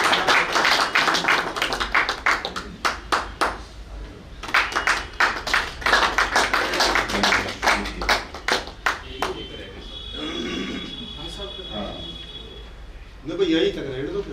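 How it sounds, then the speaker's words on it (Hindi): Audience at an Arya Samaj debate gathering clapping in sharp, steady claps for about nine seconds before the clapping dies away into low murmuring and a brief voice. "जोरदार तालियां, अभिनंदन हो रहा है।"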